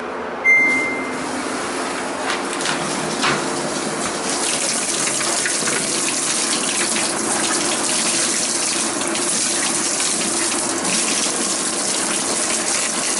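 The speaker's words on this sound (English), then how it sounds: "Let's test the water valves first." Water valves on a Samsung washer open and fill the drum, a steady rushing gush of water that starts after a brief beep and runs loudly and continuously to the end.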